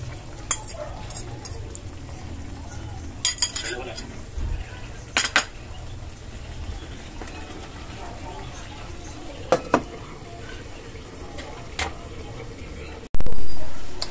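Sautéed bitter gourd with egg is stirred in a pan, a spatula scraping and clinking sharply against the metal in scattered strokes, close and fairly loud, over a low background hum with a loud knock at the end.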